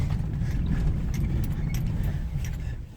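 A four-wheel drive Suburban rolls along a rough forest service road, its steady low engine and road rumble continuous and close, with small rattles and jangles from inside the cabin.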